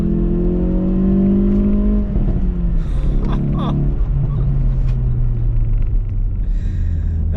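A 2022 Hyundai i30 N front-wheel-drive manual hot hatch accelerates from the cabin, a loud droning engine note rising in pitch, dipping briefly at a gear change, then climbing again with faint tyre and road rumble underneath.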